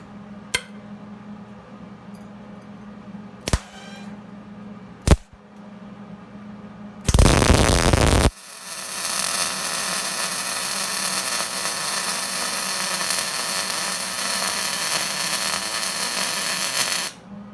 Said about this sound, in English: I'm just going to run a weld there.